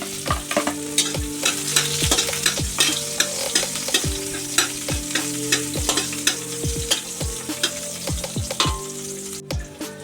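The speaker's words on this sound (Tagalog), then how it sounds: "magigisa na po tayo natin bawang sibuyas, bawang at sibuyas" Garlic and onion sauté in a pan with a loud, steady sizzle and rapid, repeated metal scraping strokes, close up and unbroken by voices.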